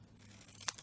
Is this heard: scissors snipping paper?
yes